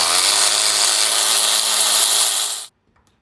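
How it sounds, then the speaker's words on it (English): A power tool whirs steadily and close for under three seconds while removing engine fasteners on a 2025 Harley-Davidson Road Glide 117, then stops abruptly, leaving a few faint clicks. "I'm barely even turning that screw"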